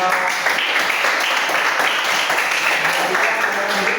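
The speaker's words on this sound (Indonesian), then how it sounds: "Sekarang tepuk tangan dulu buat kelompok 3." Students in a classroom clap for a group, a lively, continuous patter of many hands with a faint voice buried underneath.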